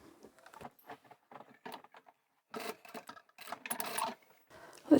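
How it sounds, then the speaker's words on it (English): A sewing machine stitching a few tacking stitches across the middle of a fabric lanyard, short quiet bursts of rapid mechanical whirring with brief pauses between, close and alone. "just sew a couple of stitches right in the middle"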